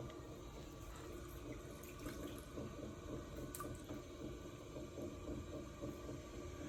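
Water sloshing and squelching as a sponge draws it out of a freshly thrown clay lidded jar on a spinning pottery wheel, a continuous wet churning under the steady drone of the wheel.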